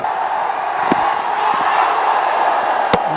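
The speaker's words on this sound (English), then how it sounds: "All the cameras are in action in the stands. The crowd." Crowd in the stands at a Ranji Trophy cricket match, a steady distant roar of spectators with a couple of sharp knocks breaking through.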